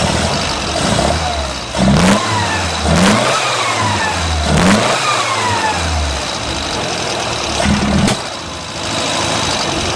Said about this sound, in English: Let's see how she takes the throttle.